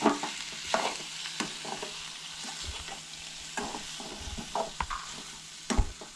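Grated coconut stirred in a hot pan, a soft continuous sizzle broken by irregular scraping clacks of a spoon against the pan, close and fairly quiet.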